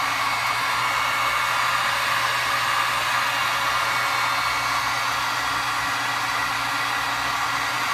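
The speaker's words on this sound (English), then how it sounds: "Take the heat gun. Basically, you're just heating up the plastic as best you can." Heat gun blowing on a plastic gallon milk jug, a loud, steady, close airy roar with no variation throughout.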